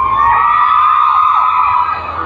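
Fans at a Kim Chiu mall tour show shout and cheer together, a loud sustained wall of high-pitched screaming voices that wavers but never drops for the whole stretch.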